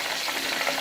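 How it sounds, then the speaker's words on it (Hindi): Lahori chargha chicken frying in a pan on its second side, a steady, close hiss of oil sizzling without pause and with no voices. "अब दूसरी तरह से भी इसे इसी तरह से फ्राई करना है।"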